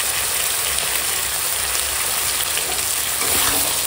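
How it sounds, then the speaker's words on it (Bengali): Chicken pieces fry in a pan with turmeric, dried chili powder, Kashmiri chili powder and salt for a homestyle butter chicken, giving a steady, close, dense sizzle that runs unbroken and without talk. "দিয়ে এখন মাংসটা কষাবো"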